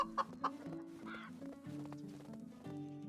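Chickens escaping from a coop in Medieval Dynasty cluck in short sharp bursts, first two quick calls then a longer squawk, set against soft in-game music, with no talking.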